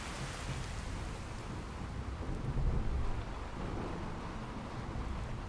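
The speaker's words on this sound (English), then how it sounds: "I like how the rain, you can still hear it, but it's like all muffled when you're inside" Steady rain with rolling thunder in a modded Fallout 4 world, heard from indoors as a continuous broadband wash that swells briefly near the middle, with no talk over it.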